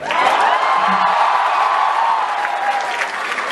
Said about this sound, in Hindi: और थोड़ी सी ज्यादा तालियां मेरे लिए